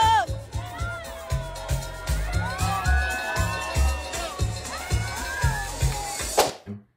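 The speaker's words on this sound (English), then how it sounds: "You have women cheering her on." Women cheering on a dancer at a party, with high excited whoops and shouts over a pounding dance-music beat, crowd noise and chatter rising and falling before the sound cuts off abruptly.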